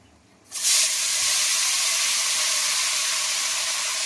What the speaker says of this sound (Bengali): বাঁধাকপিগুলো আমি একে একে দিয়ে দেবো